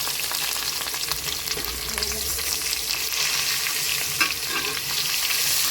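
Grated raw mango frying in a pan, a dense continuous sizzle filling the whole stretch with occasional stirring scrapes, close and loud with no speech.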